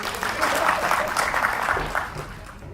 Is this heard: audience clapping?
yes